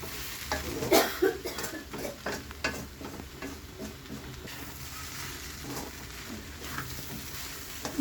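A spoon stirs fried poha upma with tomatoes in a pan, giving soft scraping and clinking strokes over a faint sizzle, quiet and close.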